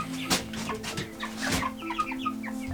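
Four-week-old meat chickens cluck and chirp in a farmyard pen, several soft overlapping calls close by, with a couple of louder rustling bumps.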